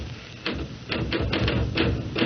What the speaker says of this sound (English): Stop that typing.